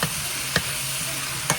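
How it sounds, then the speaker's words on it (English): Brussels sprouts and cauliflower stir fry sizzling steadily in a hot pan, with a few faint clicks of a utensil scraping as the vegetables are stirred, close and constant, no talking. "So what I'm going to do with these Brussels sprouts and cauliflower is just keep stirring them."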